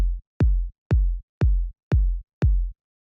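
Six deep house kick drum hits, each spaced about half a second apart, with the mids near 250 Hz scooped out by EQ. They sound punchy, boomy and clean, alone with no other sound.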